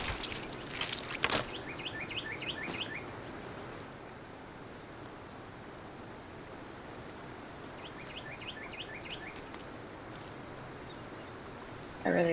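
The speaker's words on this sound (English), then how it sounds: "I really like the sounds of the birds." Forest birds in the video game Sons Of The Forest sing in two short bursts of quick chirps, faint and fairly distant, over quiet ambient background noise.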